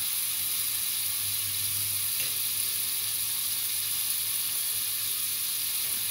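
Scallops searing in a hot pan give a steady, even sizzle with a bright hiss throughout, close and constant with no talking.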